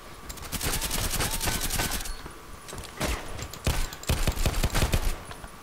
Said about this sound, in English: Whoa, that dude really has a shotgun or something.